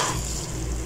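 Aloo qeema with garam masala being stirred in a pan, a steady close sizzle with soft scraping throughout.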